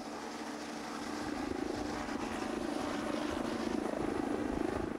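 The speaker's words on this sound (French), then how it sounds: "Ce matin, ce n'est pas en voiture, mais en hélicoptère qu'ils vont patrouiller." A patrol helicopter flies overhead, its rotor thumping in a rapid, steady beat over engine drone that grows slightly louder as it carries on alone.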